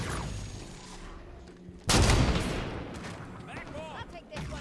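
Sniper rifle fire in Halo 5: Guardians: one sudden loud blast followed by a rumbling decay, over a busy background of game ambience.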